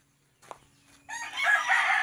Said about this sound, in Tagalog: kanang manok na kusog kayong minom og tubig